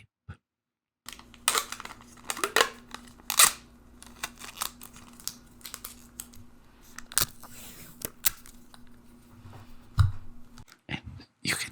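Masking tape handled, pulled and torn at close range in a quiet setting, with crinkly bursts, sharp ripping snaps and soft fumbling between them, no talking.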